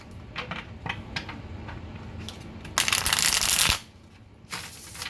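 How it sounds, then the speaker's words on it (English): Tarot cards being handled, shuffled and pulled from the deck: light taps and flicks, then a dense riffling burst, close and crisp, with no voices. "let me keep pulling cards and see what's going on here"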